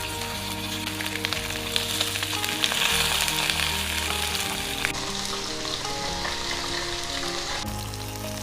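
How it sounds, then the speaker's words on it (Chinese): A fish head pan-frying over medium heat, turned to brown the other side, giving a loud continuous crackling sizzle over a low background hum that shifts partway through. "把鱼头翻个身，背面也煎至金黄。"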